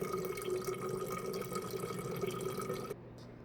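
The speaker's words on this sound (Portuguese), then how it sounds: "Olha como é que é a vazão de água daqui de casa" Water trickles slowly from an IBBL E-Due water purifier tap into a bottle, a steady close splashing flow lasting about three seconds before it abruptly stops; no speech.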